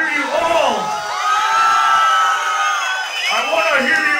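A crowd at a metal concert in Bogotá screams and cheers loudly in rising, overlapping waves of yells and whoops, with a brief dip before a second surge.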